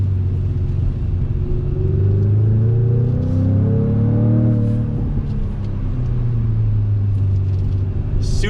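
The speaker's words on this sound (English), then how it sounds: "A little bit of pop from the exhaust is nice." A 2021 Jaguar F-Type First Edition engine rumbles steadily and revs up and down, with a few crackling pops from the exhaust; no talking.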